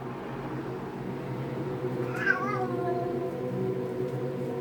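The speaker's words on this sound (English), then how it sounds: "My kitty cat confirmed." A house cat gives a single rising-then-falling meow at middle distance, clear over a low steady background hum.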